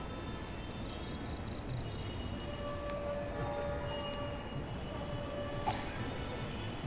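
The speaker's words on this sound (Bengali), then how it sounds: "বাম পাশেই দেখা যাচ্ছে একটা মেট্রো রেল এসে দাঁড়ালো।" A Dhaka metro rail train pulls in at a station, with a steady low rumble and faint high tonal whine under broad station noise at moderate distance.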